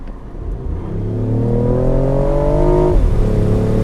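A BMW i8 Roadster's 1.5-liter three-cylinder engine, shared with a Mini, revs up loud and steady, climbing in pitch for a few seconds before easing off slightly, heard from inside the car with no talking.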